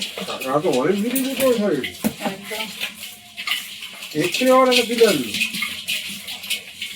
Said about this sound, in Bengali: কাঁকড়া যা খড়খড় করছে হাঁড়ির মধ্যে